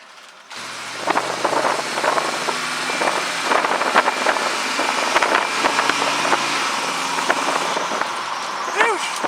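A 1956 Chevy Stepside pickup engine idles with a rough, throaty rumble, steady and close, while people talk over it.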